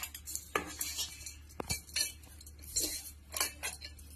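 A spoon clinks and scrapes against a pot while tamarind rice (pulihora) is mixed after tempering, giving irregular metallic taps and scrapes close by, with no talk.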